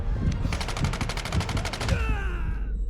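Rapid burst of gunfire in the Medal of Honor VR war game, about fifteen evenly spaced loud shots in a fast automatic rhythm, followed by ringing, whistling tails and a low battlefield rumble.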